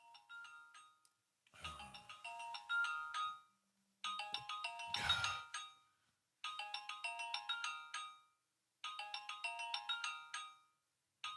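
A phone ringtone plays a repeating melodic pattern of bright electronic tones, sounding in regular bursts with pauses between, with a couple of brief handling thumps in the middle.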